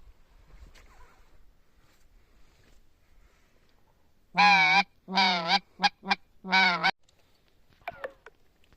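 Large flocks of geese honking in several loud bursts of overlapping calls during a May goose hunt, standing out over a quiet outdoor background.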